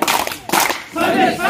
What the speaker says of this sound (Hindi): जय जगन्नाथ रमेश सर के लिए एक जय से ताली शुरू करें